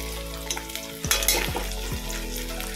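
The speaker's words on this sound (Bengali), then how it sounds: "এখানে ভাত করলা ভাজা করছি" Young, tender bitter gourd fries in a pan with a constant crackling sizzle, broken by a few sharp clinks of a utensil against the pan.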